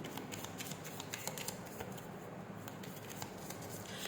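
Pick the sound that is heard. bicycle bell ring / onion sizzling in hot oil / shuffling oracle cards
shuffling oracle cards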